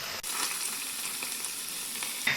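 Mushrooms fry with soy sauce and tomato ketchup in a pan, giving a steady close sizzle throughout with faint stirring scrapes near the end.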